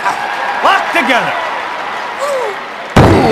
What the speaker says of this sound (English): He slams him down.